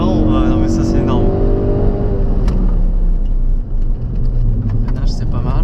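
A Ford Focus RS engine drones steadily and loudly from inside the car while driving, its pitch sliding slowly lower, with people talking over it.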